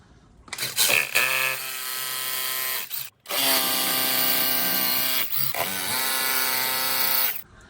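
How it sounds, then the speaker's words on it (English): A power drill whines steadily as it bores into masonry, running in two long bursts separated by a brief stop, close and loud. "So I just got to drill through now for the masonry."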